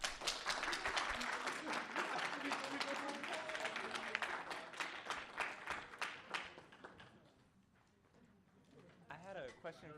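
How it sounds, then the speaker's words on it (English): Audience applause for both teams after a school competition's results are announced, a burst of many hands clapping that thins out and fades partway through, then a short scattered bit of sound returns at the end. "Let's have a big round of applause for both teams."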